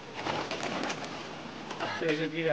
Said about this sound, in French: Il y a des pigeons.